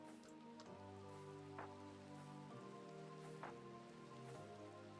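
Steady rain falls in a video game, a dense, even patter that runs the whole time beneath a low humming music bed, with no speech.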